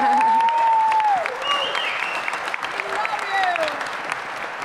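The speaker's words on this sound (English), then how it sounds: "so you guys all are clapping" Hacker conference audience at DEFCON applauding a speaker, sustained clapping under a voice that speaks through most of it.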